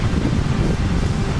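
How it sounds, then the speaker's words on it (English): Steady outdoor wind buffets the microphone with a dense low rumble and hiss, constant and fairly loud throughout, with no other clear sound. "It's a little windy outside"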